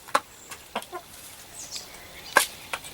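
Backyard homestead hens clucking in short, scattered calls, several sharp squawks standing out against a quiet background, fairly close.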